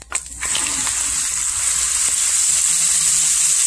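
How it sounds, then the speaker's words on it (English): Flour-coated conch pieces dropped into hot oil in a pot, a loud steady sizzle and bubbling hiss that swells after an initial splash and holds close and constant. "And now you put the oil in the pot, and when your oil already hot, you started to put your conch in"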